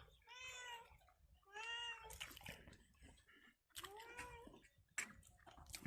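A cat meows several times at close range, in drawn-out, rising cries spaced a second or two apart, over quiet background rustle during a meal of boiled goby fish in a rice-field hut.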